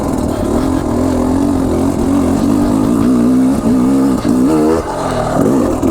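A KTM 300 Enduro two-stroke dirt bike is held in second gear, its engine loud and close with a wavering pitch as the throttle rises and eases off, with no talking.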